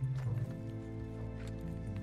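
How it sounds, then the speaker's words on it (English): Horse hooves clip-clopping along a path in the game Red Dead Online, a steady rhythmic trot under a continuous low game-music drone. "I've got one of the bandit's horses and my horse is following me"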